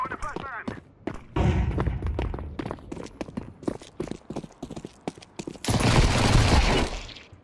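A UMP submachine gun fires in Counter-Strike 2 as sharp, rapid shots in short bursts, mixed with game impacts and a loud burst of noise near the end, while a player talks over it.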